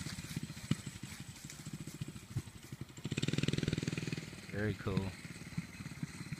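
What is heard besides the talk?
go-kart engine running as a child drives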